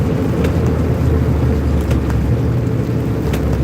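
A truck engine rumbles steadily with low road noise throughout, a continuous close drone with some wind buffeting.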